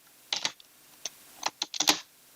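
Keys clack in quick, uneven bursts as someone types a short entry on a computer keyboard, close and crisp against a quiet room.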